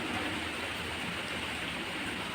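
Steady rain falls without a break, a dense, even hiss at moderate volume with no voices.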